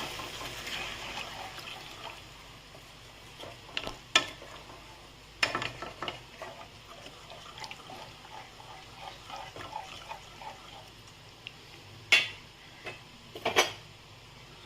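Chicken kofta curry masala being stirred in a pot after a little water is added: wet sloshing with intermittent scrapes and sharp clanks of a utensil against the pot, close and moderately loud.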